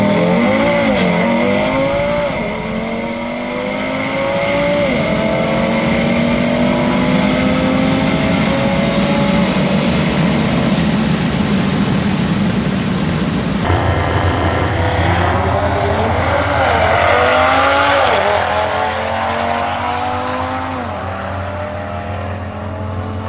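An Audi RS3 with a DS1 hybrid turbo launches down a drag strip. The engine roars loudly and continuously, revving up through repeated gear changes. A second surge of acceleration builds and then gradually fades.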